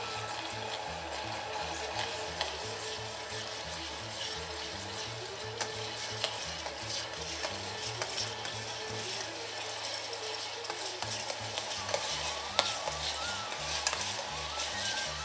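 Onions fry in a pan while being stirred, giving a soft continuous sizzle with faint clinking and scraping of the spoon throughout, quiet and close, with no talking.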